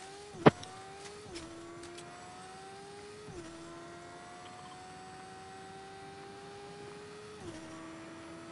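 In a PS4 driving game, a car engine hums steadily, then its pitch climbs and drops back at a few gear shifts. It stays fairly faint under one sharp click near the start, with no talk.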